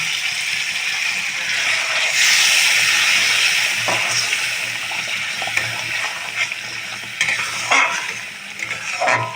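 Masala sizzling in a pan after water is added, for a Bengali kabuli chana and potato curry, with a steady broadband hiss and frying crackle, occasional stirring scrapes and a brief burst of louder sizzle, close up with no talking.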